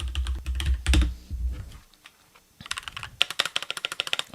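Keys are typed on a Keychron K4 keyboard: after some low thumping handling noise, a close, rapid run of crisp clicking keystrokes follows in an even rhythm.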